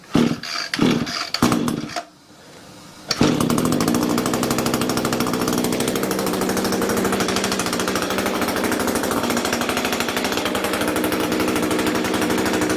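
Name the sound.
gas weed eater string trimmer engine running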